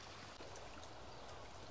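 A forest stream in Khammouane, Laos rushes steadily in a dense, continuous wash of flowing water, close and even, with no voices over it.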